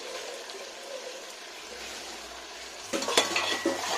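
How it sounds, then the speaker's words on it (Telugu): Whole biryani spices such as star anise fry in a large pan on a gas stove, a soft sizzle that turns into sharper metallic stirring clatter in the last second or so. "ఇవన్నీ వేసిన తర్వాత ఈ రకంగా ఫ్రై చేయాలి."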